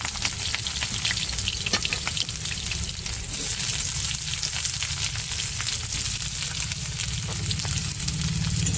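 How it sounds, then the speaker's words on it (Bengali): Chopped onions fry in hot oil, a loud, even sizzle that continues throughout with occasional light stirring clatter and no talk. "তেলটা গরম হয়ে গেছে এখানে দিয়ে দিচ্ছি পেঁয়াজ পেঁয়াজ কুচিয়ে"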